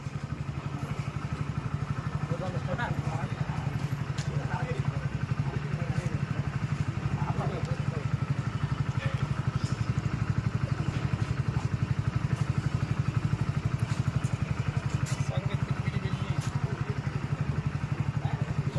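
A motorcycle idles and rides steadily throughout, with a low continuous engine drone and occasional clatter, while people talk over it.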